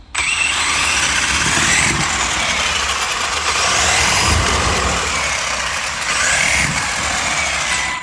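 A small RC boat engine runs loud and close while water is being drained from it, a continuous rough mechanical whine with slight surges in revs and no talk over it.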